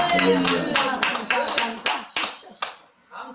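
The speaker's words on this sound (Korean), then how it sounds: "우리 박수가 하나님께 영광 드리겠습니다" Church congregation clapping in unison during a worship service, a loud rhythmic series of claps that slows and fades out toward the end, with a voice heard at the close.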